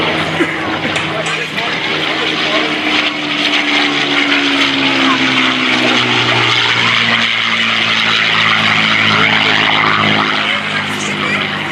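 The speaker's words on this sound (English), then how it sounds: "get a good feeling of the sound of this engine" A P-51D Mustang named Quicksilver drones loudly and steadily at an airshow, its piston engine note holding and shifting pitch slightly as it passes at moderate distance with no talk.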